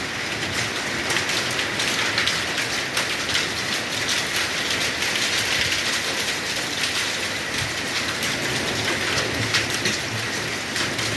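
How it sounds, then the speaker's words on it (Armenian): Heavy hail pelting down in Stepanavan, a dense, continuous roaring patter of impacts that stays loud and unbroken throughout, with no voices. "ուժեղ տեմպերով կարկուտը եկել է։"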